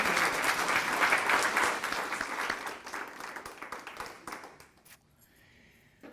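An audience welcoming a performer to a community singing gathering breaks into loud, dense applause that gradually thins and fades to scattered claps before near silence.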